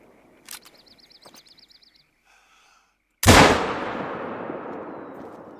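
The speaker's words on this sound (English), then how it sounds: "I'm gonna go ahead and take a shot at that too, just because he's resting." A single loud, sharp rifle shot fired at a resting bear at night in the hunting game Hunter: Call of the Wild, set in the Yukon, cracks out after soft faint clicks and a short electronic chirp, then trails off in a long, rolling echo.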